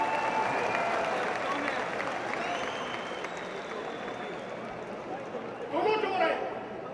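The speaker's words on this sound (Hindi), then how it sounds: "ठोको, ताली ठोको" Rally crowd at a political gathering claps in a broad, steady wash of applause, with a brief louder burst of cheering near the end.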